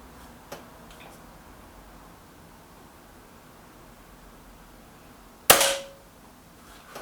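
A Hatsan AT44-10 air rifle fires one H&N pellet on a first shot outdoors, a single sharp loud crack with a brief decaying tail after faint earlier ticks and quiet background.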